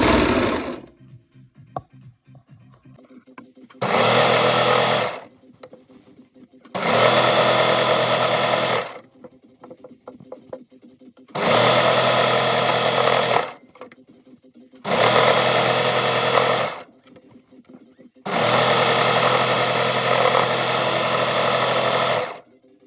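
Overlocker sewing machine stitching a fine rolled hem, running in five loud, steady bursts of a few seconds each, separated by quiet pauses with light handling clicks.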